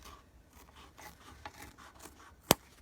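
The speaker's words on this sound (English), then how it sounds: "what we need to do now is trim right here" A pinch pouch is trimmed by cutting, heard as soft, faint rubbing and snipping strokes repeated irregularly, then one sharp, loud snip near the end.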